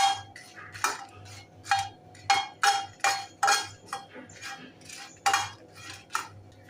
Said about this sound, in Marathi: थोडं तूप टाकूया लाल काश्मीरी मिरच्या चार ते पाच थोडंसं परतून घेऊया